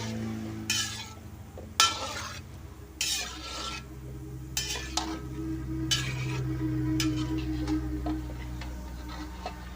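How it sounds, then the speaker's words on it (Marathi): Gulab jamun frying in hot oil give a quiet, continuous sizzle, broken by several bursts of stirring and clinks of a slotted spoon against the pan. "आपले गुलाबजाम छानपैकी फ्राय झालेले आहेत"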